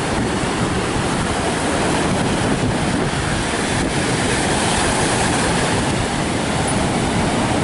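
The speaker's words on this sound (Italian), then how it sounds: "There is a strong wind, c'è un vento forte, il mare è mosso." Strong wind buffets the microphone at Marina di Torre del Lago beach while a rough sea roars steadily underneath, a loud, unbroken wash of noise with no pauses and no voices.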